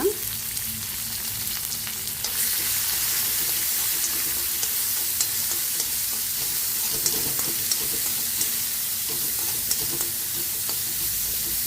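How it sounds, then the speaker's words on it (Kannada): Chopped onion frying in a pan on the stove, a steady close sizzle throughout with faint scraping and clicks of stirring now and then, no voices. "ಒಂದು ಈರುಳ್ಳಿ ಸಾಕು ಅದನ್ನು ಸಹ ನಾವು ಹಾಕ್ಕೊಂಡು ಫ್ರೈ ಮಾಡ್ಕೊಳ್ಳೋಣ"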